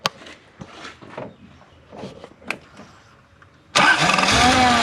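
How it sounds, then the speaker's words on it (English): Quiet clicks and handling noises, then a Toyota 1UZ-FE V8 engine with a misfire fault abruptly fires up and runs loud and steady, a rough, throaty idle close by. "Well, let's start it up, Peter, and see if we've got spark on"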